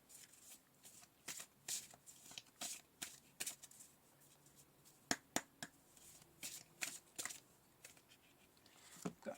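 Tarot cards being shuffled in repeated crisp riffling bursts, close and fairly quiet, with short gaps between the sharp slaps of the deck.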